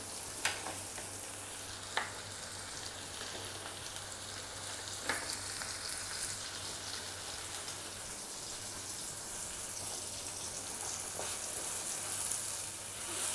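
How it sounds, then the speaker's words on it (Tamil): A continuous sizzle of drumstick (moringa) pods frying in a pan, with occasional faint clinks of stirring, close by and without talk. "இப்போ இந்த முருங்கைக்காய் வந்து ஒரு 5 நிமிஷம் வதங்கட்டும்."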